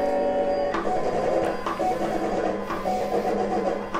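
Printec cutting plotter cutting a detailed test design, whirring and buzzing in quick bursts as the cutting head starts and stops, close and steady with no talking.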